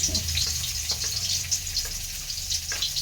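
Pieces of khoriya fish fry in hot oil with a steady, close, bright sizzle and crackle that holds throughout, with a few soft spatters and no talking.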